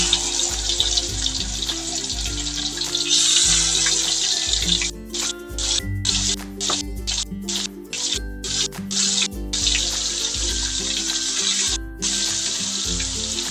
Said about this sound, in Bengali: মাছগুলো এক এক করে দিয়ে দেব, তেল গরম হয়ে গেছে।